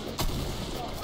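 A single sharp sniper gunshot cracks in a video game, followed by a brief rumbling tail under the continuing game sound.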